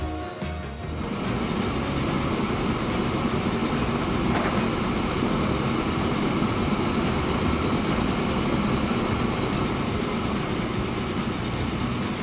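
A freight train in the Transport Fever video game rolls on with a steady, loud rumble and wheel clatter that holds from start to finish, with no one talking.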